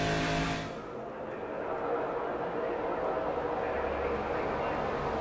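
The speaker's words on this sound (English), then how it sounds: "Here comes Harvick and Keselowski back on the outside, though." NASCAR Nationwide Series race cars roar around Daytona in a dense pack, a loud continuous engine drone and whoosh with a brief louder swell at the start, under steady commentary.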